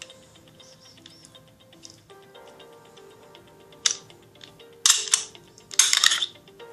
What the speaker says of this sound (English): Once I'm happy that it's unloaded, I can continue to disassemble it.